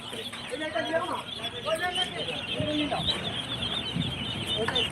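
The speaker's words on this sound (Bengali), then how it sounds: "খাঁটি ক্যাম্বেল হাঁসের বাচ্চা" Small Khaki Campbell ducklings peep and chirp in scattered bursts against a steady, noisy background hum.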